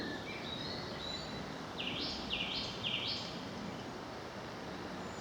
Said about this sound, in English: There you go, the old song thrush.